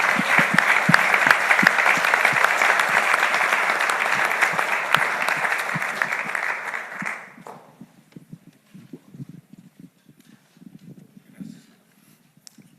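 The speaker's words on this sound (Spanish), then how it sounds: "Un aplauso para todos ustedes." A crowd at a business gathering gives sustained applause for about seven seconds that then stops abruptly, followed by scattered faint knocks and a voice speaking quietly.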